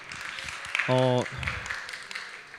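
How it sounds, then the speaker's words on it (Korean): A church youth-service congregation gives a brief burst of applause, heard under a speaking voice, with a short sustained tone sounding in the middle. "들어가실 때 큰 박수 한 번 더 부탁드리고요"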